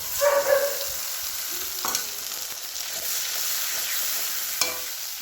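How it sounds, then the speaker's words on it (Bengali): Spice paste of ground turmeric, chili, cumin and ginger paste fries in a pan with a steady hiss, while a few scraping stirs and a light clink come near the start. "একটু মশলাটা কষবো"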